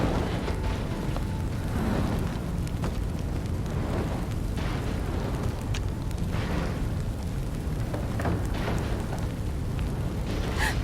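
A large fire burning in the video game Life is Strange 2: a steady, dense roar of rumbling, crackling flames that continues for several seconds, with scattered pops and faint voices in the background.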